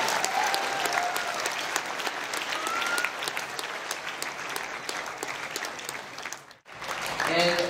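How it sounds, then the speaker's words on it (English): Dense, sustained applause fills a hall at the US Rubik's Cube national championship finals, loud and continuous. It drops out briefly near the end, then a voice begins speaking. "Let's have one more round of applause for Robbie and Andrew."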